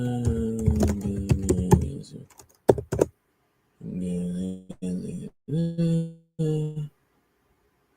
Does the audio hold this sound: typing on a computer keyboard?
yes